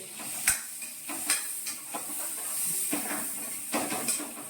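A soft hiss of a tempering frying in a pan for dal, broken by several sharp clinks and scrapes of a spoon stirring.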